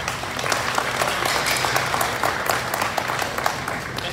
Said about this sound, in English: give Kelsey and her team a round of applause